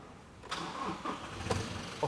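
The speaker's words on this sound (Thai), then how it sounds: "เดี๋ยวผมสตาร์ทฟังเสียงเครื่องก่อนนะ" A Toyota Revo Cab 2.4 Entry Z Edition pickup with manual gearbox cranks briefly and catches, its diesel engine settling into a rough, close idle with small surges.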